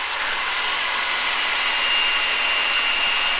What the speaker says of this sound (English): now I'm going to drill a hole here